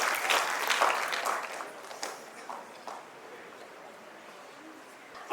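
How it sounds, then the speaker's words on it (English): An audience applauds at a national English debate event, a loud spread of clapping that thins out and fades over a few seconds. "A round of applause for them, please."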